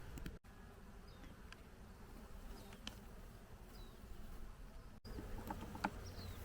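Honey bees buzz steadily around their hive in a continuous, faint drone, with a few birds chirping briefly in the background.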